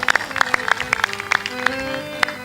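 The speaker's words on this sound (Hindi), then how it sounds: "तालियां भी जोर से बजाना चाहिए।" Sparse audience applause at a spiritual discourse, a thin, uneven patter of individual claps from a small number of people, moderately close, with some background voices.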